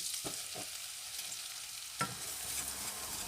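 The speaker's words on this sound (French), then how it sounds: "Et je vais faire un roux, comme ceci" Flour cooking in melted butter for a roux, a soft steady sizzle with a few faint stirring scrapes and one brief louder clink, quiet and close, no voices.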